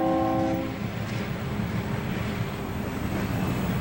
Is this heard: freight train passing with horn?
yes